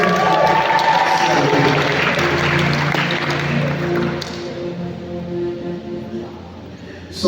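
A church wedding congregation claps together loudly and steadily, the applause fading out partway through with someone speaking over it.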